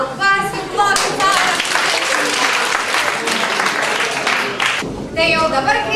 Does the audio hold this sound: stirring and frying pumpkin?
no